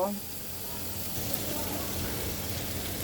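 Chopped cabbage goes into a pan of sizzling fried spices for a vegetarian dish, with a brief burst at the start that settles into a steady, moderately loud sizzle.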